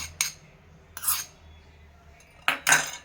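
A spoon clinks against a bowl while cashews and pistachios are stirred into cake batter at home, four short separated clinks and scrapes with quiet gaps between.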